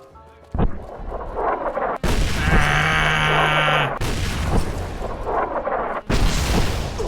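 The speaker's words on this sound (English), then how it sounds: "Oh, I hear blowing up." Loud explosions and gunfire-like blasts in Fallout: New Vegas gameplay come in several abrupt bursts, each followed by a dense noisy roar, with a tonal game sound in between. No speech is heard.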